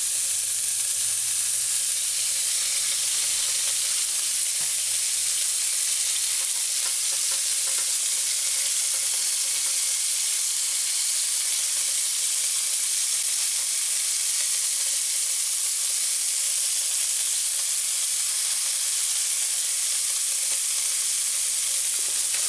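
A hamburger patty sizzles in a pot on a stovetop, giving a loud, continuous hiss and crackle that stays steady throughout with no talking.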